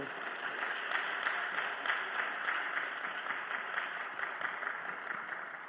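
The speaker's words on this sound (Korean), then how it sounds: "환영의 박수로 목사님 말씀 듣겠습니다." Welcoming applause from a church congregation for a visiting pastor at a Sunday afternoon worship service, dense sustained clapping from many hands that fills the room at an even level throughout.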